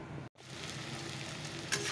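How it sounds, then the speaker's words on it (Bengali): Onion and garlic sizzle steadily in hot oil after a tempering of cumin seeds and a dried red chilli, a dense continuous fry with a brief dropout near the start. "পেঁয়াজ রসুনটা ভাজা হয়ে যাক"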